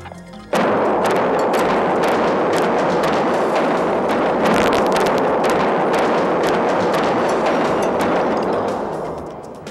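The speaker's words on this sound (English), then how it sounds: "records the very first explosion ever to be detonated inside the containment dome of a nuclear power plant" A demolition blast goes off inside the containment dome of a nuclear power plant being dismantled, a sudden loud boom followed by sustained roaring rumble and crackling debris that lasts several seconds before tapering off.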